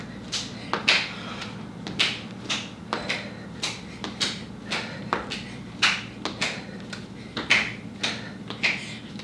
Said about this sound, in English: We're gonna clap up, clap under your knee.